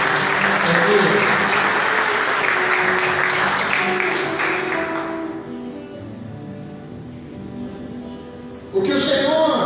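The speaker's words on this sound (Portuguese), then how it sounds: "Pode aplaudir ao Senhor?" A church congregation claps during worship, with broad applause filling the first five seconds and then fading under a lingering musical tone, before a brief burst returns near the end.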